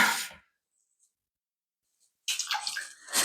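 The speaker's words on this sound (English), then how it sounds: "I'm probably going to add just about 1/2 cup more of water to mine" Water pouring into potato bread dough in short bursts: a brief splashing pour, a near-silent pause with a faint drip, then a louder, longer pour.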